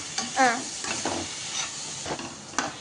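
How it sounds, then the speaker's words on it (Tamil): Grated carrot being stirred and sautéed in a pan for carrot halwa, soft sizzling and scraping strokes repeating close by, with a few brief vocal sounds between them. "பச்சை வாசனை போகிற அளவுக்கு வதக்கிக்கலாம்."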